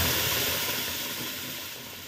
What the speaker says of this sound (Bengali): একটু যে ফোড়নটা দিয়ে একটুখানি নেড়ে চেড়ে আমি এবার পটল বাটাটা দেবো।